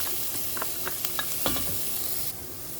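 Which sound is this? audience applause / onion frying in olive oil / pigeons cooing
onion frying in olive oil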